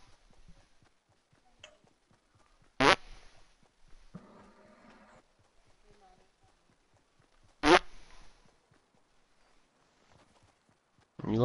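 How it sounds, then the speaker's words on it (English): Fart sound effects in the video game Fortnite: two sharp, loud bursts several seconds apart against a quiet background with faint ticking and a short stretch of low noise between them. "You love fart noises, huh?"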